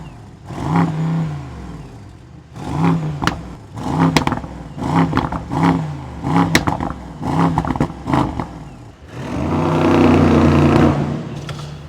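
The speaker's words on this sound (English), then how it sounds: "let's take out this amazing S63 Edition 1 and see how it performs" A 2024 Mercedes-Benz S63 AMG E-Performance Edition 1 accelerates in a series of loud, close surges, each rising then dropping off as it shifts, ending in a longer sustained roar; no talking.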